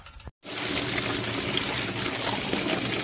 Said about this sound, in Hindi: इसमें पानी पूरा भरेंगे